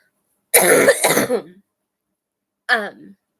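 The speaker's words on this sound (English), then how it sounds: "try not to cough." A single person's close, loud cough or throat-clearing burst, followed by a shorter second one after a pause, with silence around them.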